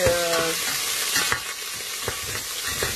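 Garlic and onion sizzle steadily in a hot pan, a continuous frying hiss broken by occasional stirring clicks and scrapes.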